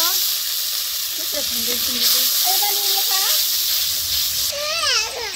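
Watery spice paste of ground onion, garlic, mustard and cumin hits a hot pan for a pangas fish curry with bottle gourd, sizzling and hissing loudly and steadily while someone talks over it.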